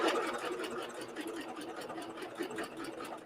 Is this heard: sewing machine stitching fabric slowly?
yes